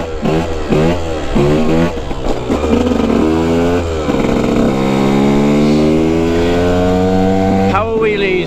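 KTM EXC 125 two-stroke dirt bike held in a slow wheelie, its engine buzzing and revving up and down in quick bursts before one long sustained rising drone, close and loud.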